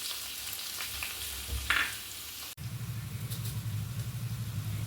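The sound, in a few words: onion, green chili, curry leaves, garlic frying in hot coconut oil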